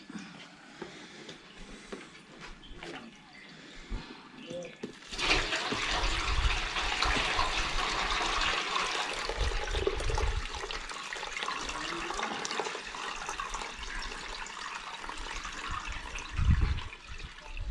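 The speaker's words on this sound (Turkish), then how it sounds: "Leğenden boşaltayım." Water is poured out of a basin while making sumac sour, a sudden close gushing splash that starts abruptly after a few quiet seconds and keeps running steadily, with a louder splash near the end.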